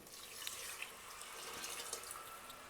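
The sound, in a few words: water poured into pot for mutton biryani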